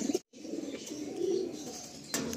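Shaksabuj pigeons coo steadily in a loft, a low rolling murmur of several birds close by, with a brief gap near the start and a sharper rustle toward the end.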